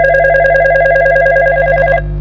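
A mobile phone ringtone trills in a fast, warbling electronic pattern of repeated pulses for about two seconds, loud and close, then stops, leaving a low steady hum beneath.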